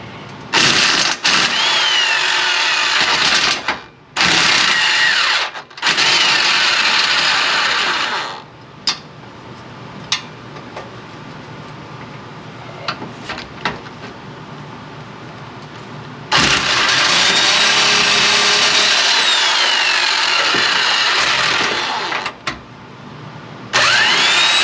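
Impact wrench removing bolts from the radius arm of a Range Rover Classic overland rig, with loud, sustained buzzing bursts that stop and restart, separated by quieter stretches.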